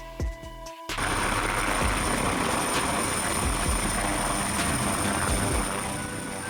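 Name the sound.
helicopter rotors spinning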